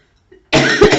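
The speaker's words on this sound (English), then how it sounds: "please excuse the coughing" A single harsh, loud cough right up close from a person getting over a chest infection, preceded by a faint throat sound, abrupt and rough.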